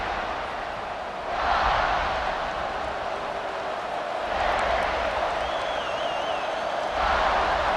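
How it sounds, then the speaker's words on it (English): A stadium crowd in a College Football 26 game between LSU and South Carolina roars in repeated swells, rising loudly around each surge and settling back to a broad steady murmur, with a faint whistle-like tone drifting through. "This crowd ready to make its presence known."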